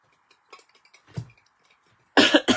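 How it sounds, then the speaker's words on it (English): A single burst of harsh coughing near the end, loud and close, following a few faint scattered sounds. "Why do you get the cough when you need to be on the live?"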